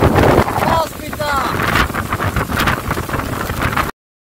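Very strong gusting wind roars on a high mountain road during a storm, buffeting loudly and unevenly against the microphone, with a voice speaking briefly at the start.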